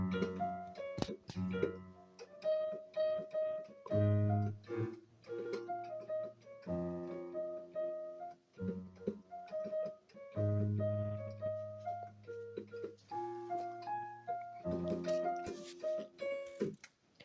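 Solo piano playing verse 2 of a song, with quiet, distinct melody notes over sustained low chords in an unhurried rhythm.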